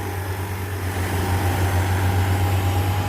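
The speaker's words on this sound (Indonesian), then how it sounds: "Oh, mini truk muatan lembu." A mini truck loaded with cattle runs its engine nearby, a steady low diesel drone with a constant hum, heard alone without voices.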